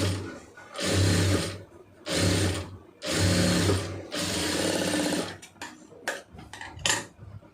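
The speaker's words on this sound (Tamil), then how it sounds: "இப்போ இதை வந்து அப்படியே மடித்து படிமான தையல் ஒன்று போட்டுருங்க." Sewing machine stitching a folded seam on a round neckline, running in four loud, steady bursts with short pauses, followed by lighter clicks and handling of fabric.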